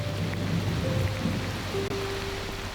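A heavy downpour of rain falls on a home in a Mount Tamborine rainforest, making a dense, continuous hiss of drops throughout, steady and moderately loud with a low rumble beneath.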